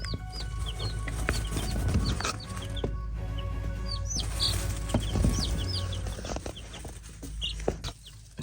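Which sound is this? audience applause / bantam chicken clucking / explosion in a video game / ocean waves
bantam chicken clucking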